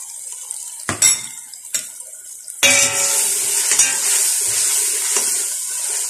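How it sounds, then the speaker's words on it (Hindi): Meat goes into a hot pot for kaddu gosht with metallic clanks and then a loud steady sizzle, with stirring scrapes and a few knocks against the pot close by. "अब आपने गोश्त डालना है।"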